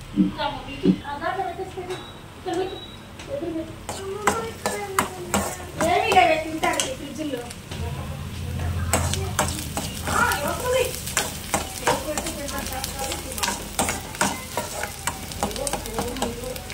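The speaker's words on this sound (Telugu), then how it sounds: "ఇది కొంచెం వేగాలి ఫ్రెండ్స్" Masala frying in a pan for masala dosa filling, with continuous sizzling and repeated scraping and clinking of a spoon against the pan, under intermittent talk.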